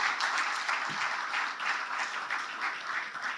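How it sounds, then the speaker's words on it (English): Steady, full applause from a conference audience at an economic forum in Kuala Lumpur, sustained without pause for several seconds with no voices over it. "please give a round of applause to young entrepreneurs."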